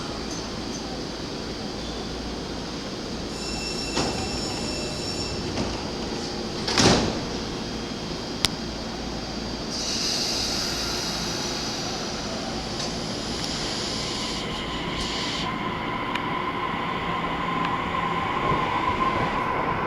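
A JR E231-series commuter train pulls away from a platform at Ofuna Station: doors thud shut, a chime and hiss, then motors whine and wheels rumble as it gathers speed.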